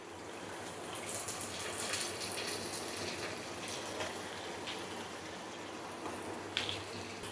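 Mixer rinse water is poured into frying chutney, giving a faint, steady watery hiss and sizzle with small crackles, no voices.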